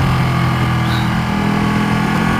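A Ducati Panigale 1199R motorcycle engine with an auto blipper runs loud and close, holding a steady, dense drone throughout with no clear gaps or separate blips.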